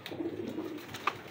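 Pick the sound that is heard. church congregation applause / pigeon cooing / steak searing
pigeon cooing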